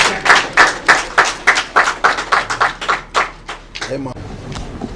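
Audience clapping in a burst of rhythmic, fairly close hand claps at a Yoruba heritage gathering, about a dozen sharp beats that thin out and fade near the end.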